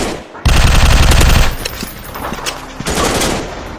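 Automatic rifle fire in the mobile shooter Real Commando, with a loud sustained burst of rapid shots that cuts off abruptly and is followed by quieter scattered gunfire and battle noise.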